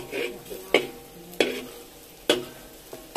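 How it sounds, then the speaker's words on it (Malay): Chili and tomato sizzling in a pan while a spatula scrapes and stirs, with several sharp clanks of metal against the pan at irregular intervals. "Goreng cili sama dengan itu tomato"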